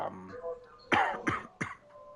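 A motorsport race commentator coughs three sharp times in quick succession, close to the microphone, just after a few words of speech.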